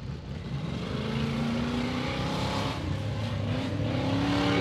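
A 4WD competition vehicle launches off the line at an off-road challenge event, its engine revving hard and climbing steadily in pitch as it accelerates, loud and close throughout.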